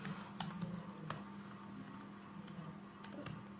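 Java code being typed on a computer keyboard in NetBeans, heard as sparse, faint keystroke clicks over a steady low hum.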